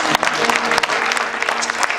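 A church congregation claps and cheers for the husbands, a dense, loud burst of applause with shouts mixed in, close and continuous throughout.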